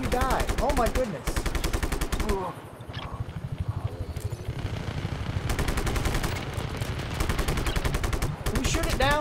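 Rapid gunfire from Just Cause 3, heavy automatic bursts rattling almost continuously with a brief lull in the middle, loud and close, with a voice over it.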